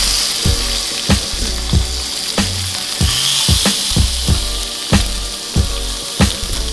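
Lamb chops sizzle loudly in hot grapeseed oil, a steady close crackle broken by repeated thumps and clatter from the pan, with no voices.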